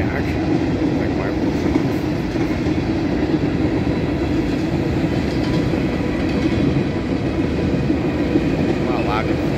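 A CSX freight train passes on Boices Lane at Kingston, New York, a steady, loud roar of rolling wagons and wheels on track that holds at close range for the full stretch, with faint high squeals now and then.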